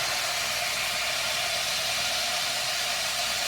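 Sausage grease sizzles in a pan with leftover water bubbling beneath it, producing a steady, dense hiss that stays close and even from start to finish.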